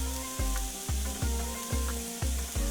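Mince and mushrooms fry in oil on a griddle, a loud bright sizzle broken by regular scraping strokes of a spatula about every half second, close up and uninterrupted by talk.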